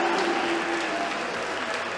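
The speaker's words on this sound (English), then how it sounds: "who is getting a mixed reception from the crowd here at Stacked" Wrestling crowd at the Stacked 2018 show reacting to a young German wrestler, producing steady loud applause and mixed cheering with crowd noise and a voice over it.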